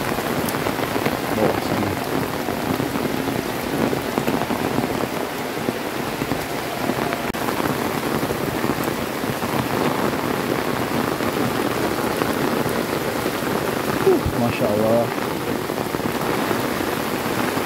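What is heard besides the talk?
rain falling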